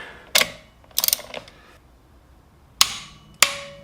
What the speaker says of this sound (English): we're gonna put about 30 foot-pounds of torque on this bolt